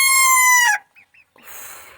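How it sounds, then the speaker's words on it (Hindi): A backyard pet hen gives one loud, close, sustained squawk, then a couple of brief soft clucks. Broadband barnyard noise follows, with turkeys kept nearby. "मुर्गी है जो बार बार चिल्ला रही है"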